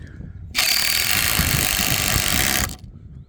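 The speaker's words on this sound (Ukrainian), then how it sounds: "Тепер відкручую зблизька." Close-up whir of a self-tapping screw being driven back out of hard baobab wood, one steady loud burst lasting about two seconds between quieter moments.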